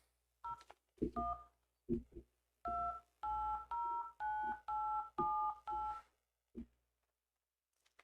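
Telephone keypad tones ring out one after another: a few quick scattered presses, then a steady run of about eight evenly spaced beeps, each clear and alone in a quiet background.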